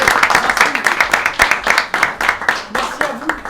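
A small group applauds Tayeb with a burst of quick, close hand claps that continue steadily for a few seconds.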